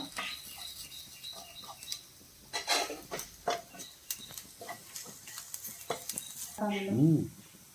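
Shallots fry in a pan for a prawn fry, a light sizzle with irregular stirring scrapes and clinks of a utensil, ending in a brief tonal whine or voice-like sound near the close.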